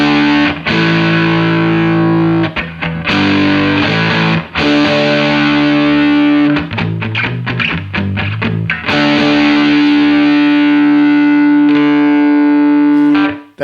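Electric guitar on the neck pickup played through a 1980s ProCo Rat II distortion pedal with the distortion set to maximum, loud sustained fuzzy chords and notes with some choppy bursts, no talking.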